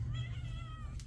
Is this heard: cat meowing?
yes